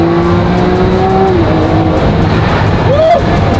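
A Lamborghini Murcielago drives past at close range with a continuous engine drone, its pitch sliding down and then sweeping up in a short rev near the end.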